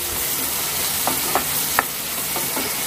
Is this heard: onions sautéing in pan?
yes